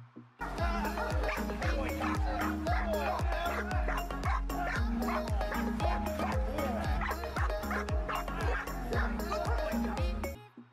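A Rottweiler barking loudly and repeatedly in a fast, steady rhythm, close by, with occasional yips and whines between barks.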